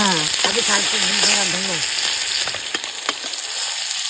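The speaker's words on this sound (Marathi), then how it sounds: "ह्या पाच सहा पाकळ्या लसणीच्या चांगल्या भाजून घ्यायच्या परतून आणि मी कांदा ऍड करतो" Steady sizzling of onion frying in hot oil after five or six garlic cloves, with a few metallic stirring taps; a voice-like tonal sound rises briefly early on.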